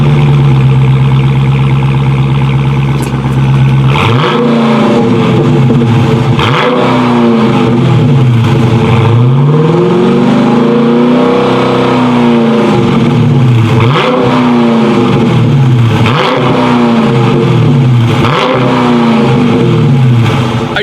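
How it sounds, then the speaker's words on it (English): A 2016 Dodge Charger R/T Scat Pack revs hard from a steady idle, its engine climbing and falling in repeated loud sweeping pulls, close and unbroken, with no talk. "the sound on the Charger Scat Pack is insane"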